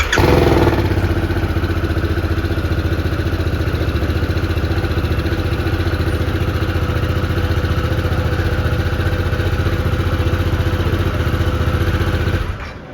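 A motorcycle with an unmodified exhaust pipe idles close by, a loud steady rumbling chug that holds evenly throughout before cutting off at the end.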